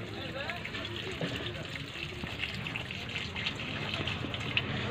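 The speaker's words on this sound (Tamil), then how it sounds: "தண்ணி விடுங்க சாமி," Water poured out continuously at a temple food-offering gathering, a soft steady gushing that runs the whole time beneath murmuring voices.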